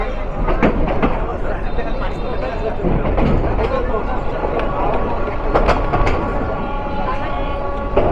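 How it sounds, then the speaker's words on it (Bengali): A local commuter train pulls out of Lalmonirhat station bound for Burimari, with a loud, steady rumble broken by sharp rhythmic wheel clacks and rattles. "আইকনিক লালমনিরহাট স্টেশন থেকে বুড়িমারি কমিউটার ট্রেন হিসেবে এখন আবার যাত্রা শুরু করছি"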